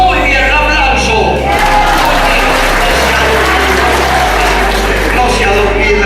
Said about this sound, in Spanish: Muy bien, un aplauso.